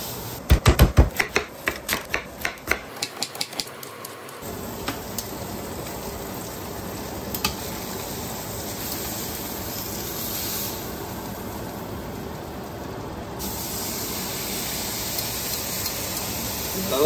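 A beef pot roast searing in a pan sends up a steady loud sizzle and hiss. It starts with a quick run of sharp clatters and taps, then settles into a continuous crackling fry that runs to the end.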